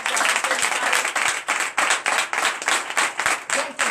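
A church congregation at a Sunday service in Benin claps together, dense and loud, with rhythmic surges of applause filling the whole stretch and no talk over it.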